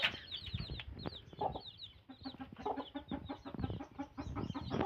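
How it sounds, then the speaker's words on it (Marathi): A village hen with newly hatched chicks clucks close by in a rapid, continuous stream of short calls, with faint high chick peeps mixed in. "एक कोंबडीने पिल्लं काढलेली आहेत."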